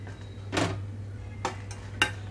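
Metal utensil scraping and clinking against a pan as fried dry red chillies are moved onto a plate, a few short separate clatters against a quiet background hum.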